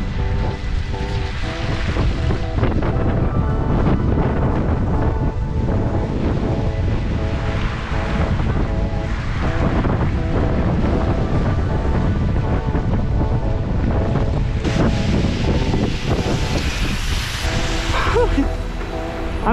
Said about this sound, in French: le vent plus la neige